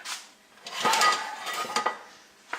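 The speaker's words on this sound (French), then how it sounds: "On va mettre un couvercle" A metal lid goes onto a cooking pot simmering on low heat, making a few close clinks and a rattling clatter as it settles, with a light final tap.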